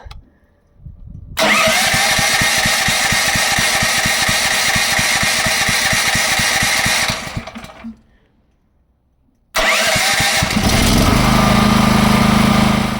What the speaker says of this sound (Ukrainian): Але це самий гучний генератор, який я тестував.